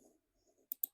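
Two crisp key clicks from a computer keyboard while typing a formula into a Google Sheets spreadsheet, quiet and close, coming after a faint stretch of near silence.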